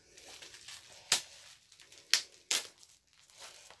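Packaging on a parcel from a discount store haul is handled quietly, with soft crinkling and three sharp tearing bursts spaced across a few seconds, close and otherwise calm.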